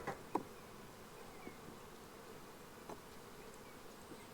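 Honeybees hum in a low continuous drone close by during a hive inspection, with a few sharp clicks and knocks breaking through the buzzing.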